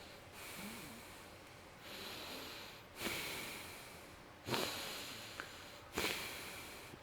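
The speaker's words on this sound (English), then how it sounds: "And we hear this breathing." Slow, heavy breathing from the 1978 horror film Halloween, with repeated raspy inhales and exhales in a steady rhythm, growing louder over a hissy background.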